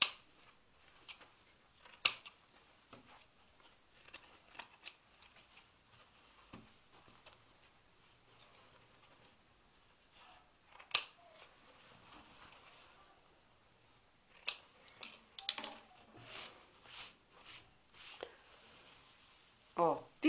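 Scissors snip off fabric corner tips on a sewn bread basket, giving a handful of sharp, quiet isolated clicks spread out over near silence, with a cluster of snips near the end.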